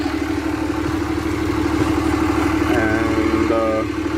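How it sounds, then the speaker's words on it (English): A Dodge engine idles steadily at a constant pitch, a low even rumble with slight clatter, heard close and alone with no talking. "I've just got my Dodge sitting there idling"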